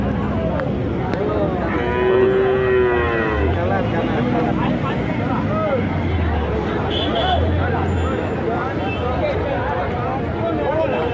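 Jersey and HF cattle moo repeatedly at the busy Punganur cow market, deep calls rising over a constant crowd babble, with people talking nearby throughout.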